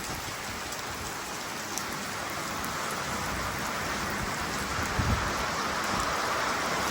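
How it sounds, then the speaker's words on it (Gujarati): Light rain falls steadily outdoors near tethered horses on a windy day, a soft, even hiss of drops on surfaces with one or two faint thumps and no talk. "જો મિત્રો જરી જરી વરસાદ આવે છે"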